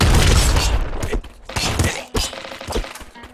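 Grenade explosion in the top-down shooter Nuclear Throne: a loud burst at the start followed by several more sharp thuds and booms spaced through the next few seconds.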